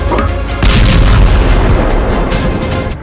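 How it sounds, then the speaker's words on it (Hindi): Large artillery gun firing 155 mm shells, a heavy booming blast that rolls on with a sustained rumbling tail, loud and close, with no talk. "ये 155 मिलीमीटर के गोले हैं जो बड़ी तोप से फायर किए जाते हैं"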